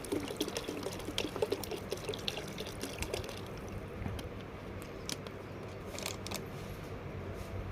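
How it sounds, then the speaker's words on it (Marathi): A liter of cow-based culture is poured into a mixture of buttermilk and black jaggery, giving a continuous soft splashing and trickling with scattered drips, fairly quiet and with nobody speaking. "तर हे आता आपण टाकायला लागलो 1 लिटर कल्चर यामध्ये मिक्स करून घेणार आहोत सगळे."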